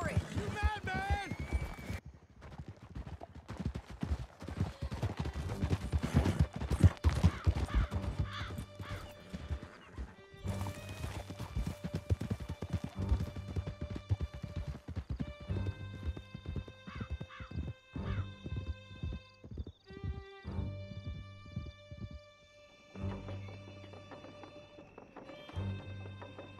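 Horses gallop with steady clip-clop hoofbeats and occasional whinnies during a chase through a canyon in Red Dead Redemption 2, with game music and brief voices over the riding.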